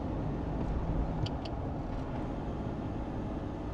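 A Land Rover Defender with a BMW M57 diesel engine and manual gearbox drives along, giving a steady, loud low engine and road drone heard from inside the cabin, with no talking.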